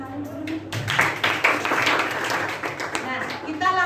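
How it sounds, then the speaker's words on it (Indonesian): Students clapping in a classroom, a burst of scattered handclaps mixed with lively voices and a speaking teacher, fairly close and moderately loud. "Tepuk tangan untuk kalian dulu nih."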